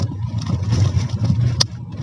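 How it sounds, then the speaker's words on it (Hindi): Kia Seltos rolling slowly in second gear at about 30 km/h over a badly broken road, a steady low engine and road rumble throughout with a brief sharp knock or rattle near the end. "गाड़ी हमारी सेकंड गियर पे आराम से चल रही है"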